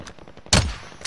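Gunfire in the battle royale game Warzone, a single sharp loud shot cutting in midway after quiet rustling, with a brief rumbling decay.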